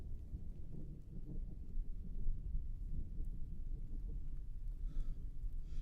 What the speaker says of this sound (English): I actually have storms following me around.